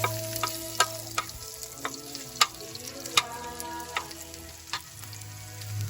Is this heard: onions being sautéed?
yes